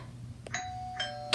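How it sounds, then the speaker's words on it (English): A doorbell rings indoors with a clear two-tone ding-dong, the chimes standing out against a quiet room before a louder sound cuts in at the very end. "The doorbell rang."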